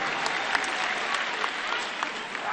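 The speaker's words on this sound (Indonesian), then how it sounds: "Beri tepuk tangan untuk seluruh jajaran Amanat Indonesia." A crowd at an Indonesian political rally claps steadily and loudly, a dense, continuous wash of applause with scattered sharper claps throughout.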